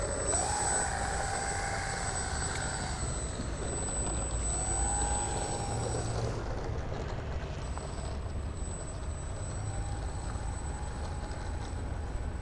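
An RC model N250 airplane's engine whines steadily through a takeoff at a circuit in Boyolali, a continuous high droning tone with slight pitch shifts over a constant rushing background.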